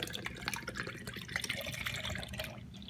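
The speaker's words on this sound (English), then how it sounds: "I'm gonna take the rest of my Premier Protein and just pour it into my cup" Premier Protein shake poured from its carton into a cup, a steady close liquid stream with gurgling and splashing that runs for a few seconds and thins toward the end.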